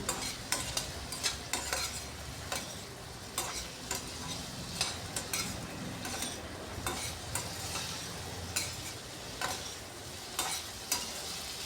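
Potatoes fry under a lid in a pan with a muffled continuous sizzle, broken by regular clinks and scrapes of stirring at a moderate distance, with no talking.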